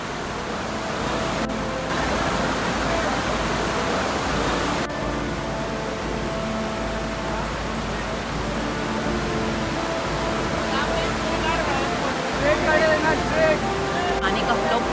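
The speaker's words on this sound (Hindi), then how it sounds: "वाटरफॉल का जो साउंड था गाइस वो बहुत ही ज़्यादा स्कैरी था मेरे लिए" Kalu Waterfall roars with rising water flow, a dense, steady wash of rushing noise filling the whole stretch, with people's voices faintly audible beneath it.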